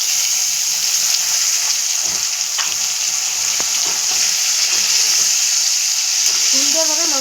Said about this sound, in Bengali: পেঁয়াজের সঙ্গে আমি মাংসটাকে ভেজে নেব